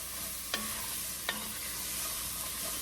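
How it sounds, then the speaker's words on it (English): Vegetables and beef fry in a pan under a loud, constant, dense sizzle, with two sharp spoon scrapes or taps about a second apart. "And I am just going to keep stirring this for that 3 to 5 minutes."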